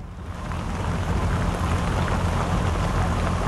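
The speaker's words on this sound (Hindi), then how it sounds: "इस समय बारिश हो रही है" Steady, dense rain pours down during a flood in India, heard from a rescue boat, a continuous loud hiss of drops that fills the scene without a break and with no voices.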